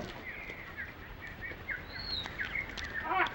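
Small birds call with thin chirps and short twittering notes while pecking seeds from pine cones, close by and fairly soft, with light rustling in the background.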